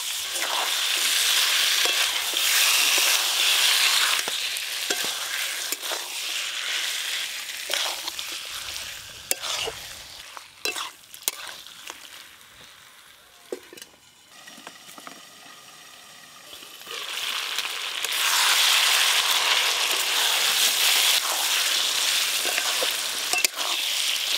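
Spice-marinated meat frying in hot oil, loud crackling sizzle with stirring scrapes, fading quieter in the middle before the sizzle swells back up strongly, close and without talk.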